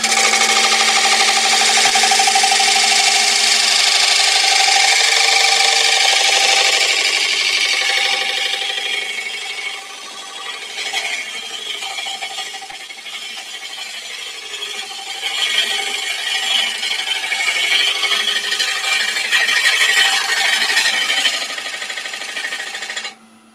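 A power sander works on a wood-turned bowl on a lathe, giving a loud continuous abrasive whir that eases partway through and then builds again before stopping abruptly.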